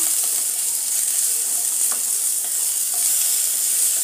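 Sliced onion with spices fries in a pan, a constant bright sizzle with occasional light scrapes and clicks as it is stirred, close and without talk.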